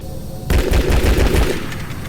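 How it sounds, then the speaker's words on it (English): Rapid automatic gunfire in the underwater shooter game Red Ocean, a burst of sharp repeated shots erupting suddenly after a quiet moment and rattling on for over a second before easing off. "You're still mostly going to hear footsteps on the metal floor and gunfire, which sounds decent."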